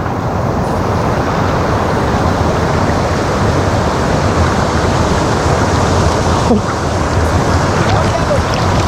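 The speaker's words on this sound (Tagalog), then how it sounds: "basta ito nga Panas Waterfalls" Loud, steady broadband roar of the waterfall at Panas Waterfalls eco-cultural park in New Corella, Davao, with water rushing down toward a pool, continuous and close throughout.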